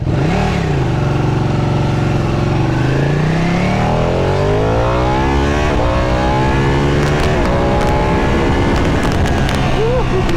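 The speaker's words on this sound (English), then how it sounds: "Oh, that lumpy idle." A Ducati 959 Panigale superbike engine loud and close, its deep lumpy idle rising into sweeping revs and throttle blips, with tones climbing and falling continuously throughout.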